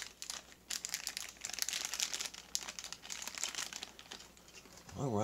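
A plastic bag around a small Tomica die-cast toy car package crinkles and rustles steadily at close range while it is opened, in irregular bursts of bright crackling.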